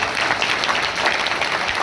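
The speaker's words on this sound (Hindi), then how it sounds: "उनके लिए ना दिल से एक बार तालियां बजनी चाहिए।" Audience applause at a direct-selling business meeting welcoming first-time guests, a steady dense wash of clapping throughout, loud and close, with no pauses.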